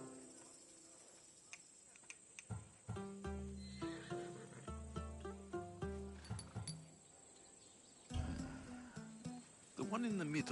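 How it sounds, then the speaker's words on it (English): Horse in Assassin's Creed Odyssey, bred in Thessalonia, nickers and whinnies near the end, following a run of rhythmic hoof clip-clops and game sounds. "That horse is from Thessalonia, bred for its courage."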